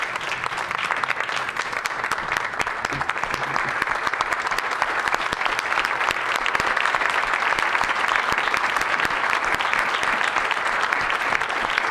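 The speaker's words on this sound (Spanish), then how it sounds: "Why don't we give the Lord Jesus Christ a clap offering?" Congregation at a Friday youth church service clapping for the Lord Jesus Christ, loud dense applause sustained evenly from start to finish.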